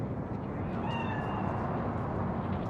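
A cat spirit meows in Cyberpunk 2077, a short high wavering cry rising and falling over a steady low ambient hum, fairly faint and alone with no talking.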